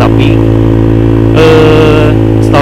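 A Honda Vario 150 scooter with a custom exhaust fitted with a full baffle idles loudly and steadily up close, its tone rising slightly in a brief blip partway through, with no talking.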